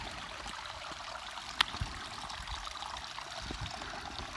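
Water trickles and babbles steadily at a soft level, a gentle desert canyon stream at Oliver Lee State Park, New Mexico, with one brief sharp click partway through.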